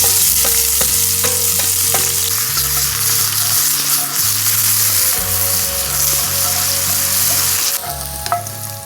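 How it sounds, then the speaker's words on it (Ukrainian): Onion and garlic frying in oil in a pan for solyanka, giving a loud, steady sizzle with occasional stirring scrapes and no talking, and background music underneath. "Першими обсмажимо цибульку та часник."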